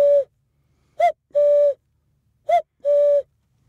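Someone imitates a cuckoo by blowing into cupped palms, producing two clear two-note "cuck-oo" calls. Each is a short hollow note followed by a longer steady whistle-like tone. The calls are loud and close, with silence around them.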